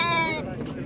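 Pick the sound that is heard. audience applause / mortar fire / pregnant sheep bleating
pregnant sheep bleating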